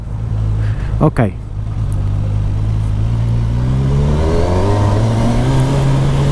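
A Kawasaki Versys 1000 SE GT motorcycle in sport mode accelerating uphill, its engine drone rising steadily in pitch over a constant rush of wind, with a brief spoken word near the start.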